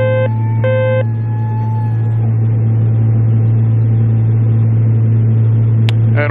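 A twin-engine aircraft engine holds maximum climb power as a loud, steady droning hum with a constant tonal whine throughout, joined by a few brief beeping tones near the start.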